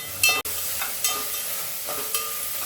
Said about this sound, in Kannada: ಇವಾಗ ಸ್ವಲ್ಪ ಹಸಿಮೆಣಸಿನ್ಕಾಯಿ ಕೂಡ ಎಣ್ಣೆಲಿ ಫ್ರೈ ಆಗಬೇಕಲ್ಲಿ